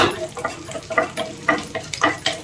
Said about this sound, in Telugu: స్టవ్ మీడియంలో పెట్టి వేయించుకోండి. ఇదిగోండి ఈ విధంగా.